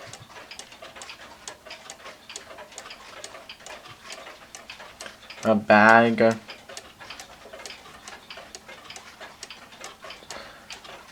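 A small one-day hunter cuckoo clock with a single set of small weights ticks in a steady, even rhythm, close and fairly quiet, while a person speaks briefly partway through.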